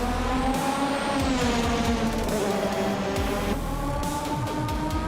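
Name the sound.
race cars in a racing video game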